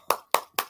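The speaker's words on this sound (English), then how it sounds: "Applause for the deep down hippie" Three single hand claps spaced evenly apart, sharp and close, from one person at a poetry reading, with short silences between them.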